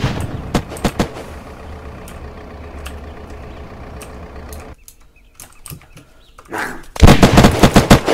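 Rapid bursts of automatic gunfire in the survival game Unturned during a player-versus-player fight, a loud close volley at the start, a sustained rattling middle, a lull, then another loud burst at the end.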